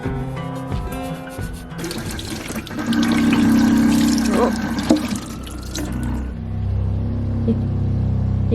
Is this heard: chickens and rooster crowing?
no